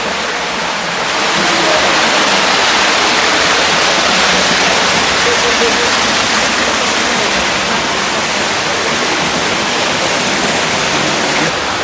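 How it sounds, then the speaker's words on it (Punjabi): A waterfall inside the MUSE science museum in Trento, falling into a fish pool, gives a loud, steady rushing roar that fills the whole stretch without a break. "ਅੱਗੇ ਜਾ ਕੇ ਝਰਨਾ ਦੇਖਣ ਨੂੰ ਮਿਲਦਾ ਇੱਥੇ"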